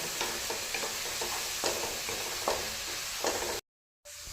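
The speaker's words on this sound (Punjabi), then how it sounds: "ਜਦ ਤੱਕ ਉਹਦਾ ਸਾਡਾ ਤੜਕਾ ਭੁੱਜਦਾ ਹੈ" A Punjabi tadka for matar paneer sizzles steadily in hot oil while a spoon stirs through it, scraping in regular strokes. The sound then cuts to brief silence before the frying resumes.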